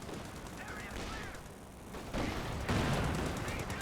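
A Jackson tank destroyer's gun hit in a World War II strategy game, heard as rumbling cannon and gunfire bursts within a dense battle soundscape, with a commentator talking over it.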